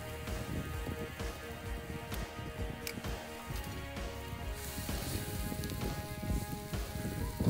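Half-salted ham hocks, soaked overnight, brown in a pan with a dense, steady crackle like light rain that holds at an even level throughout.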